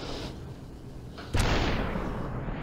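A single loud gunshot from the video game Superhot bursts out partway through, followed by a decaying rumble over a quieter background.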